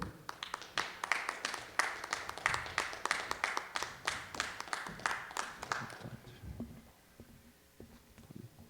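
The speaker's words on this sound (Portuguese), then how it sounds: "Recebam eles com muito aplauso" An audience at a panel discussion on cities of the future applauds as the speakers are welcomed: steady, moderate clapping that tails off after about six seconds, leaving faint room noise and movement.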